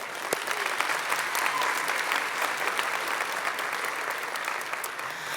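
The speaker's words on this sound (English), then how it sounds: "So a big round of applause for that." Graduation ceremony audience applauding indoors in a large hall, a dense, steady wash of many hands clapping at even loudness throughout with no talk.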